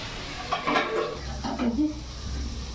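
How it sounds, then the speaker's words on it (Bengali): Cumin seeds and dried chillies heating in hot oil for a dal tempering, a soft sizzle under clinks and scrapes of a utensil against the pan, with no talk. "জিরে আর শুকনো লঙ্কাটা গরম করে নিচ্ছি, এটা ডালে ছকা দেবো।"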